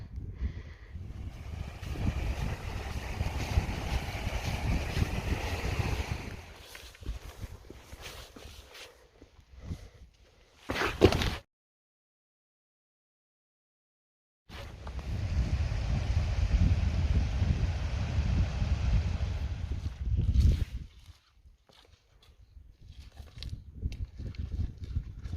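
Wind gusting across a rocky mountain trail on a cold, wet day, a loud broadband roar that drops out abruptly for a few seconds, then returns and fades into quieter stretches.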